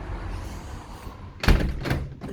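A front door swings and shuts with two close, solid thuds about half a second apart, following a quiet stretch of room tone and no speech.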